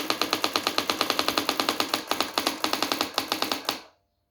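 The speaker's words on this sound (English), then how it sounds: "So it's an electric typewriter and it types." Brother AX-110 electric typewriter typing: a steady run of sharp, loud, close key strikes at a fast even rhythm for about four seconds, then stopping abruptly into silence.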